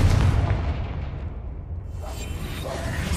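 A Confringo fire spell from a Harry Potter video game detonates with a heavy low boom that rolls and rumbles, followed by a fading whooshing tail over about three seconds.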